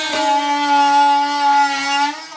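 A power tool cuts oak for a kitchen worksurface, a loud, sustained high whining tone with strong harmonics running steadily before tapering off near the end.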